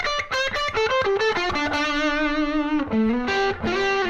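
A distorted electric guitar plays a rapid lick of quick notes that settles onto a sustained held note, then picks up again with short phrases, loud and close with no talking.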